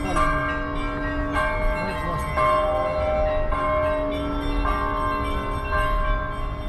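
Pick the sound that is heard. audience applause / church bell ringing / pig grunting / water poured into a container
church bell ringing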